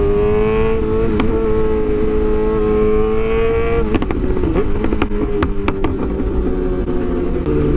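Motorcycle engine running loudly up close, a steady throbbing idle that is blipped with rough revs partway through, continuous and dominant with no talk.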